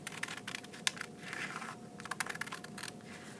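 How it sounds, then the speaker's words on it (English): Scissors cut out an eyebrow piece for a handmade stuffed animal, giving a run of quick, close snips and crisp crinkling cuts that repeat irregularly. "the first thing I'm going to do is I'm going to cut out the eyebrow"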